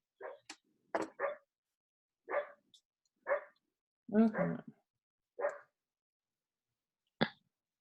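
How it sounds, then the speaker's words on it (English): A pet dog barks repeatedly nearby, about eight short, sharp barks in an irregular series, heard clearly against an otherwise quiet room. "if you guys hear my dog, I'm so sorry"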